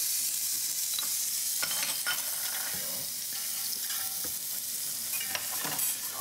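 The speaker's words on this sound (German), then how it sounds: "den tue ich jetzt mal noch neu in eine heiße Pfanne rein" Feta cheese frying in a hot, sticky pan gives a steady close sizzle with scraping and stirring noises throughout, and no talking.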